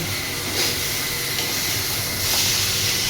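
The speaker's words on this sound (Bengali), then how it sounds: "আমাদের কাঁকড়া রান্না চলছে" Crab curry hisses steadily in a cooking pan, a close, continuous steamy sizzle that swells slightly twice.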